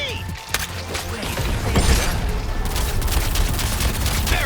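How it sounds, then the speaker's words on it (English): Aerial mines burst in rapid succession in the video game Suicide Squad: Kill the Justice League, a loud crackling barrage of overlapping booms and sharp cracks with rumbling debris beneath. "I seem to have unleashed aerial mines in your location."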